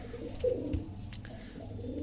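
Amber-headed pigeons coo softly at close range, low rolling calls repeating in a quiet setting with no talking.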